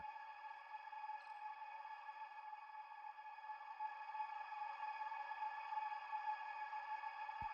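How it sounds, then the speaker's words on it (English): A sustained spring-reverb synth pad drones steadily with a smooth, reverberant shimmer, faint and unchanging throughout. "This is a kind of spring reverb type sound I put together."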